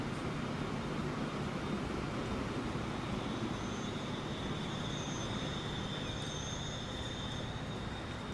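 Diesel passenger train pulling out in Transport Fever 2, a steady loud rumble of engine and rolling wheels with a faint high squeal, continuous throughout.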